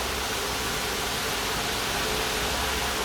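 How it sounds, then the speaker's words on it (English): Vegetables cooking by the water-frying method give off a steady, even sizzle in a pan, a continuous broadband hiss that is close and fairly loud, with no breaks and no talking. "You can hear the sizzling, I hope."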